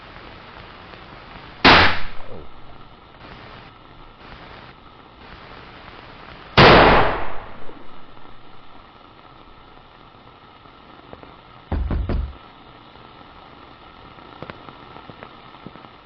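Gunshots ring out in the video game FM, two sharp loud blasts a few seconds apart, each with a short ringing tail, then a quieter muffled double bang, over a low steady hum; a voice briefly exclaims.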